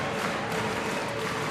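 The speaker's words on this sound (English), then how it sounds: "Let's listen to this crowd." A packed gym crowd at a high school basketball final roars in a steady, loud wash of cheering and clapping, sustained without a break through the whole moment.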